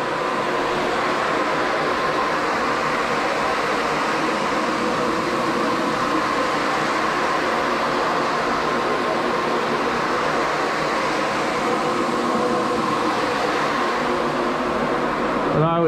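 Cimex carpet cleaning machine scrubbing road tar out of carpet, a steady, loud droning whir with a constant motor hum running unbroken throughout.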